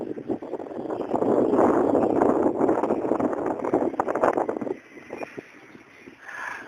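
Cool wind gusts over a microphone outdoors at the historic Jahangir Tomb in Lahore, a loud rumbling buffet for several seconds that drops away, then swells again faintly near the end.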